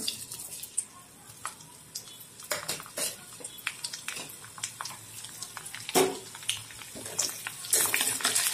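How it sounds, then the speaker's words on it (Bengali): Whole spices hit hot mustard oil in a pan for a mixed vegetable sabji, giving a soft, crackling sizzle with scattered pops and the clink of a utensil, fairly quiet and close. "এবার এতে দিয়ে দেব ফোড়ন।"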